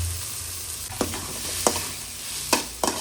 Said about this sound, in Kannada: ಒಣಮೆಣಸಿನ್ಕಾಯಿ, ಈರುಳ್ಳಿ ಫ್ರೈ ಮಾಡ್ಕೊಳ್ಳೋಣ.